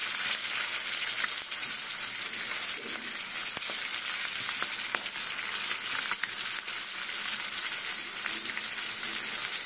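Fish pieces frying crisp in a pan of oil for a drumstick and mixed vegetable curry, giving a steady even sizzle with a few faint stirring clicks, no voices.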